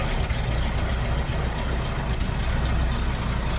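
A 1957 Oldsmobile Rocket 88 engine idles steadily and close by, a continuous low rumble with a faint rough knock, holding even throughout with no voices.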